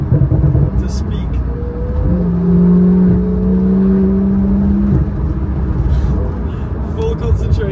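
McLaren 720S or 750S supercar accelerating, its engine note climbing into a loud, sustained rising whine that holds for a few seconds before easing off, with steady road and cabin rumble underneath and brief speech around it.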